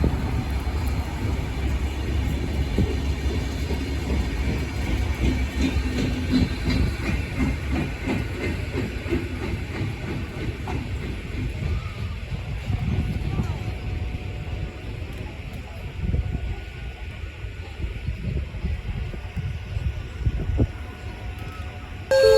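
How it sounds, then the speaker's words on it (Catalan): A train rumbles and hisses steadily through a station in Catalonia without slowing, loud and continuous, with a faint tone from the platform toward the end. "Atenció, tren sense parada."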